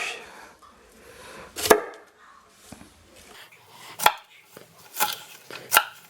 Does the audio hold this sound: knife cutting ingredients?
yes